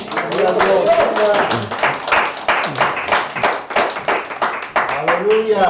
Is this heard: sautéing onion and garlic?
no